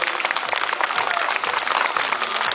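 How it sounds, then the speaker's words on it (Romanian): Audience applause rings out at a taekwondo demonstration in Năsăud, a dense, steady wash of clapping from a crowd filling the whole stretch. "Vă rugăm să-i aplaudați"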